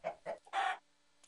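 A chicken in the video game Minecraft gives a few short clucks: two quick ones and then a longer squawk, close and clear, followed by near silence with a faint blip at the end.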